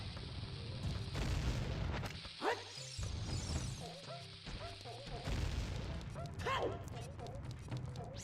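Bomb flower explosions in the video game Ocarina of Time, a few sharp booms with crackling debris spaced across the stretch, mixed with game effects and chatter.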